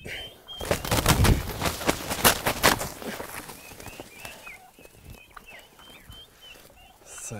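An old Canadian wild turkey cock at Atzling near St. Pölten, Austria, gobbling in a loud rapid rattling burst up close, followed by quieter chirping birdsong in the background.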